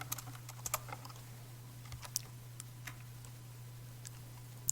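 Computer keyboard keys tapped while typing a terminal command, scattered soft clicks and keystrokes at an irregular pace over a low steady hum, without any talking.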